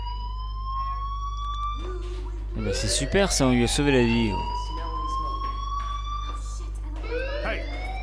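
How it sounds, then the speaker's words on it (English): Fire alarm ringing inside the video game Life is Strange, a steady rising electronic tone running the whole time beneath a low constant hum, with people talking over it in the middle. "Hey, do you hear that fire alarm?"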